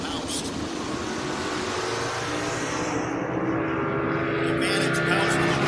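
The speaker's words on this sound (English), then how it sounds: "Advantage Moust in the Mustang trying to hold off that big inch monster motor that Myers has got" Drag race between a Mustang and a big-inch 1969 Camaro, a roaring engine rumble that holds loud and steady throughout, heard under an announcer's voice.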